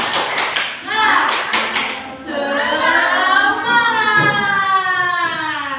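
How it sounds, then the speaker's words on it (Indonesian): Classroom students in a microteaching lesson perform a rhythmic 'tepuk semangat' spirit clap, with bursts of sharp claps in quick patterns followed by chanted voices, all loud and close. "Ibu pengen kita tepuk semangat dulu sebelum ke kesimpulan"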